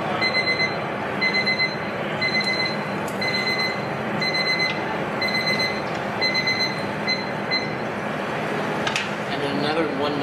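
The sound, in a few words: timer alarm going off while frying donuts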